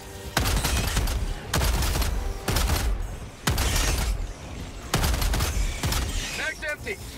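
Gunfire in the video game Helldivers 2, loud repeated bursts of automatic weapon fire in five or six long volleys separated by short gaps, with game sounds and a voice between bursts.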